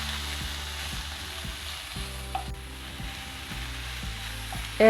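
Chorizo with onion and garlic cooks in a pot, a soft, even sizzle of frying fat underneath a low rhythmic hum, with a small clink near the middle and a louder knock at the very end.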